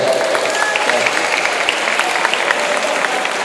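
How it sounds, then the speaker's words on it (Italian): Lively crowd applause at an Italian cosplay and comics event, dense and loud clapping from many people sustained evenly throughout with no talking over it. "Facciamogli veramente un applauso"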